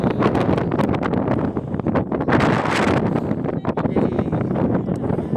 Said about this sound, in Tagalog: Woo! Lakas ang hangin.